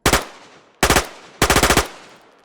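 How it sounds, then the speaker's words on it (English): An MP7 submachine gun fires in the DayZ Expansion mod video game, three very rapid bursts in quick succession, each loud and close with a short decaying tail. "Wow, that rate of fire is crazy."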